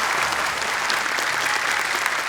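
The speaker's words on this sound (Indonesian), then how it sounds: "beri tepuk tangan untuk Kak Nabila" Studio audience at an Indonesian televised Quran-memorisation competition breaks into steady, dense applause that fills the whole short stretch at an even, fairly loud level with no talk over it.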